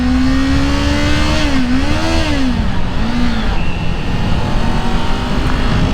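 A close, loud 2022 Kawasaki Ninja 400 motorcycle engine hums steadily, its pitch climbing and wavering as it accelerates, with constant road and wind noise underneath.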